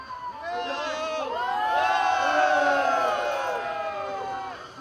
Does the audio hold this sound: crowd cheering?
yes